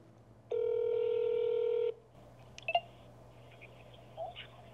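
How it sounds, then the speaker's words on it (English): A phone dials out: a long, steady dial tone lasts about a second and a half, followed by a few short, faint beeps and soft handling noises. "All right, I'm calling the boss."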